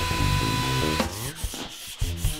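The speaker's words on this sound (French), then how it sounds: "je peux araser les bords de la touche, toujours par rapport au manche et toujours avec une fraise avec un roulement à copier" A woodworking router with a bearing-guided copying bit trims the edges of a guitar fingerboard flush with the neck. A steady, close motor whine runs for about a second, then a few short scraping cutting bursts follow.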